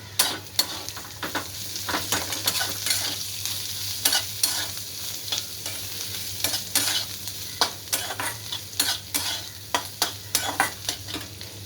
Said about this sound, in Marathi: आपण कोथिंबीर टाकून घेऊया खूप सारे अशी कोथिंबीर आपली कुरकुरीत होणार आहे त्या तेलात